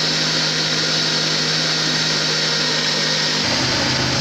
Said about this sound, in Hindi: ऊपर रख के अब इसको ग्राइंड करना है। इसको इतना ग्राइंड करें कि ये अच्छे तरीके से इसका मक्खन ऊपर आ जाए।